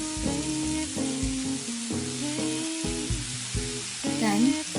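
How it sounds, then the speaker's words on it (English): Onions stir-frying in melted butter in a pan over medium heat give a steady close sizzle. Stirring noises break through the frying at intervals, with tonal sounds in the background. "Over a medium heat, melt 60 grams of butter and stir-fry the onions until fragrant."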